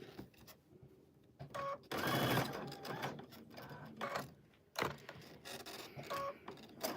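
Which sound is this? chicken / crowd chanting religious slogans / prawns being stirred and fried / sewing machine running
sewing machine running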